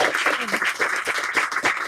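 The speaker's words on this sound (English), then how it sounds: "yeah, we can clap again" An audience at a live talk claps, a short burst of overlapping hand claps at steady strength with a few louder swells.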